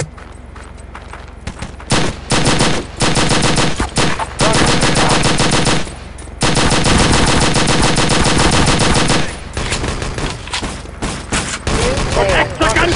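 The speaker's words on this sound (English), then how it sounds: "Fire the railgun!" Rapid automatic gunfire from the railgun in Wolfenstein: Enemy Territory, loud bursts of sustained firing broken by short pauses, with game sound effects and occasional voices.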